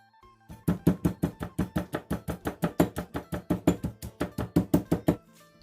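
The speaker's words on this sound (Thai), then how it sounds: "แล้วมาโขลกหลักผักชีพริกไทยนะคะแล้วก็กระเทียมค่ะ" Steady, rhythmic thuds of a pestle pounding coriander root, black pepper and garlic in a mortar, about five strikes per second, close and even, with no talking.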